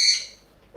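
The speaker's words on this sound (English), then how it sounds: "Oh, and the bird wants attention too." A pet bird at home gives a single sharp, high chirping call close by, fading quickly, then a faint softer sound follows.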